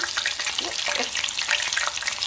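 Chicken livers deep frying in hot oil, a dense close bubbling sizzle with rapid crackles and small pops throughout.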